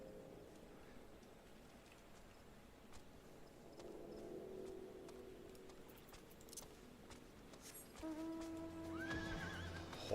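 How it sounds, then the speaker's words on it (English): A horse in a fantasy role-playing game whinnies twice, a rising then falling neigh, over soft ambient patter that sounds like rain, with a faint musical tone near the end. "Horse."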